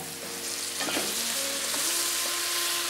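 Sausages sizzling and frying steadily on a grill, a continuous close crackling hiss with faint stirring or scraping touches, no voices.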